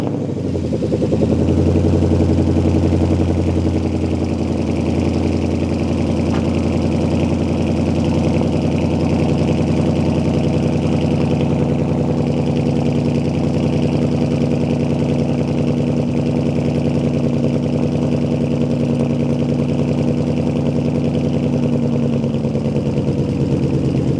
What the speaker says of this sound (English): let's give it another cold start